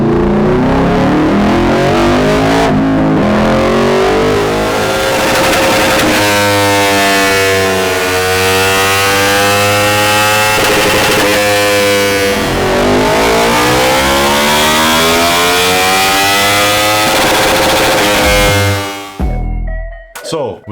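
An Aprilia Tuono V4 Euro 5 motorcycle roars through repeated loud full-throttle runs on a dyno, its pitch sweeping up and falling back in long pulls before cutting off abruptly near the end.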